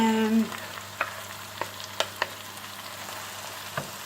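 A chard tortilla mixture cooks in a pan with a faint, low sizzle, broken by several sharp clicks or scrapes of a utensil. A brief tonal sound comes at the very start.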